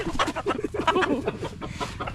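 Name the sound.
rooster clucking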